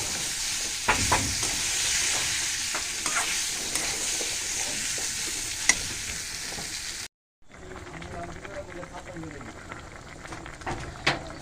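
Broth poured into a pan of curry that has been fried down, giving a steady loud sizzle and bubbling with stirring clicks, then a brief gap before a softer simmering hiss with scraping.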